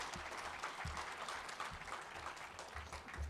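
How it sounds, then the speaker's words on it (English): An audience at a student center groundbreaking claps steadily, heard faint and distant, with some low rumbling underneath. "let's give a big round of applause for Cindy's involvement"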